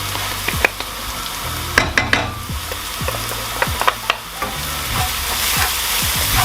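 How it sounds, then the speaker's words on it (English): Onions, minced garlic and cumin frying in a pot for a Lebanese-style green bean stew, a steady sizzle broken by repeated scraping stirs and a few utensil knocks, close and alone. "And let that fry around until it's fragrant."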